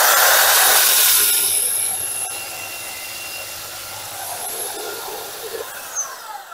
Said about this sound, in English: make sure that the belt on your belt sander is pushing down against the laminate